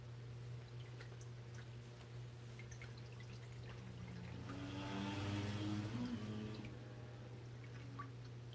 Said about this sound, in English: I also got to add a little bit of water to this tank.